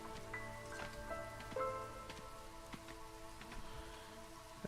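Drizzle falls in the video game Against the Storm as a steady, soft patter of light rain, with faint sustained tones humming underneath and no voices.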